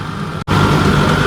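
A pair of 60 hp Kubota tractors strain at a brick-loaded trolley, with a loud, close, rumbling engine drone that cuts out for a moment and then returns.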